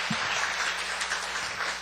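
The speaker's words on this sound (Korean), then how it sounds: "우리 응원의 박수를 한번 격려하도록 하겠습니다" Church congregation applauding in encouragement during a Korean service, a steady wash of clapping that fills the whole short moment at moderate level.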